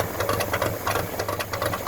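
A tractor engine runs after a jump start from a Vector 800 amp jump starter, giving a close, steady, rapid knocking chug with a rough, even rhythm.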